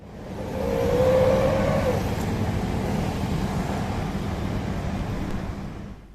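Steady road traffic rumbles along the Alang-Alang Lebar bypass in Palembang, in front of the integrated security post at the Alang-Alang Lebar terminal, with a vehicle swelling past in a loud, continuous roar and no voices.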